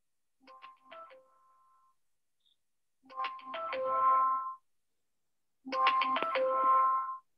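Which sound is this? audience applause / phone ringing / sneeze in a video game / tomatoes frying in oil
phone ringing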